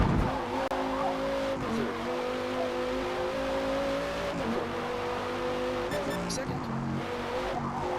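Race car in Forza Motorsport braking hard: a steady engine drone with squealing tire tones that shift in pitch, while a voice talks over it.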